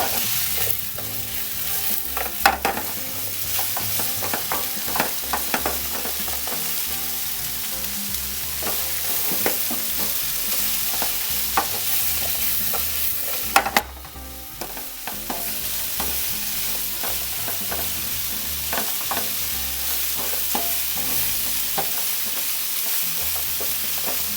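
Spaghetti stirred and fried in oil with salt, a steady sizzle running throughout with scraping and clinking stir strokes at irregular intervals, close and moderately loud, no voices.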